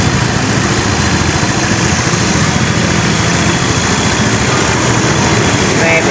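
A Yamaha Mio Soul i scooter engine idles steadily and loudly up close while its throttle body adjuster is being set, a constant buzzing drone with no change in pace.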